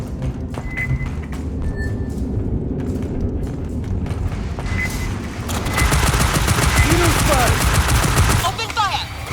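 Sustained bursts of rapid machine gun fire in the sci-fi shooter Aliens Fireteam Elite 2, loud and rattling, intensifying in the second half with dense overlapping shots.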